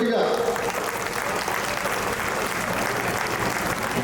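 A crowd at a Hindu Sammelan community event near Tirumala Basti, Gaddiannaram, applauds children with sustained, dense clapping from many hands, steady and close for the whole stretch with no break.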